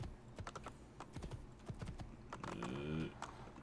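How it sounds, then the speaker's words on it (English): A horse's hooves clip-clop in Assassin's Creed II, with quick, irregular, close hoofbeats as the animal moves restlessly over stony ground. A few sharper clatters stand out, and there is a short snort near the end. "Okay, this horse needs to calm down."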